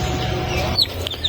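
Two-day-old turkey and native chicken chicks in a brooder give a few brief, high peeps that stand out against a soft background hum.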